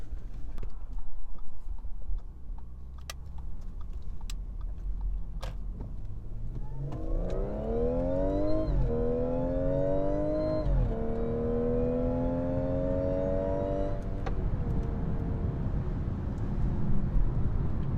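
An Audi SQ5 with a carbon intake accelerating hard down a street, its engine note rising in pitch through a couple of long pulls, loud and fairly close, with one brief break between surges and no talking.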